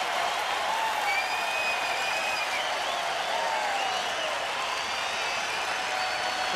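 At a Braves–Astros baseball game in the Astros' stadium, a distant crowd roars in a steady, broad wash of cheering and scattered clapping, with faint whistles rising above it.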